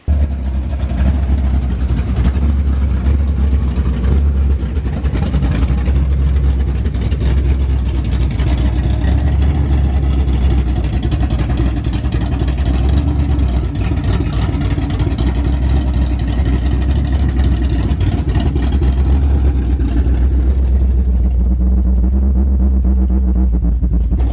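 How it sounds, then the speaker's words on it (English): A loud engine idles steadily with a low, throbbing rumble that holds for the whole stretch, easing slightly near the end. "So I got it idling, sounded pretty good."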